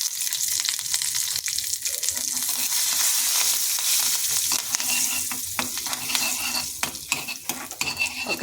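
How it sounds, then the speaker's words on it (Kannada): Tempering of curry leaves, garlic, turmeric and hing sizzling in hot oil, a loud crackling spatter with stirring scrapes and pan clinks, easing toward the end. "ಒಗ್ಗರಣೆ ಆಯಿತು, ಸಾರಿಗೆ ಹಾಕ್ಕೊಂಬಿಡೋಣ."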